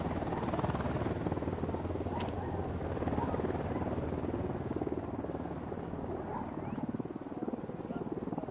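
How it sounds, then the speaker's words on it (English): A helicopter in the video game Ghost Recon Wildlands drones steadily with a dense rotor thrum throughout, loud and continuous, with faint game ambience underneath and no clear talk. "We got a chopper."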